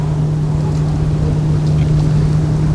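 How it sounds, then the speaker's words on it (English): A steady, droning boat engine hums close by with a low tonal buzz, continuous and unchanging throughout. "It's a noisy boat."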